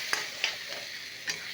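Soaked tamarind sizzles softly in a pan for onion gongura chutney, a faint steady frying hiss broken by a few sharp spatula scrapes and taps, with no talking.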